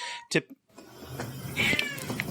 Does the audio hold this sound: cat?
yes